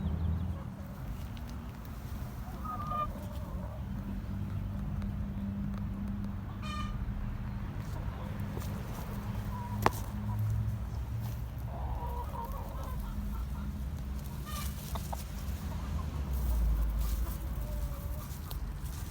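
Chickens clucking softly in the distance beside a chicken coop in a wetland area, over steady outdoor background noise, with a few brief sharper calls scattered throughout.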